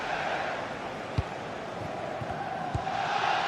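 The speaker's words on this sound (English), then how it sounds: "The crowd certainly think so. Just listen to that noise." Football video game stadium crowd: a steady, distant roar of supporters fills the stands, with a couple of faint thumps rising above the constant wash.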